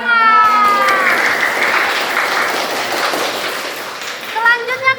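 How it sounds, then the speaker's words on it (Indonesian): Group applause from a classroom audience after a student team presentation, broad steady clapping that starts loud, holds for several seconds, then thins out as voices rise over it near the end. "Tepuk tangan."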